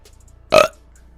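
A single loud, close burp, short and guttural, lasting about a fifth of a second and standing alone against near silence.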